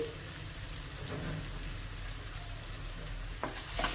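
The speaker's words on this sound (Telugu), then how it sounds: "మళ్ళీ ఒకసారి కలిపేసేసుకోవాలి" Tomato masala with turmeric, chilli and coriander powder frying in a pan gives a soft, continuous sizzle, with a couple of brief stirring scrapes near the end and no talking.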